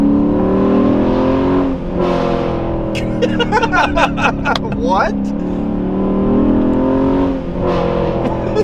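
Chrysler 300 SRT8 V8 engine revved to about 5,500 RPM: a loud, sustained deep roar that rises and falls as the throttle is worked, with someone speaking briefly over it near the middle.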